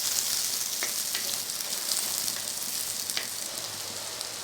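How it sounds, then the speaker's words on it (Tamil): Onion and tomato with curry leaves sauté in a pan for Tamil pepper curry, giving a steady bright sizzle with occasional stirring scrapes, close up and without talk. "நல்லா வதக்கலாம்."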